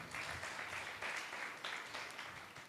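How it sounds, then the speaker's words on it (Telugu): A church congregation claps during a Sunday service, brisk group applause that swells and eases in quick waves over a few seconds, close and fairly full. "గట్టిగా చప్పట్లు కొడదాం"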